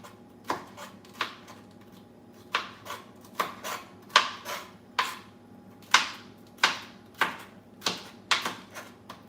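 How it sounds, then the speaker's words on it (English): A knife chopping food into strips on a cutting board in a home kitchen, with a dozen or so crisp, close, separate knocks falling in an uneven rhythm and no talking. "so then it said to cut this into strips."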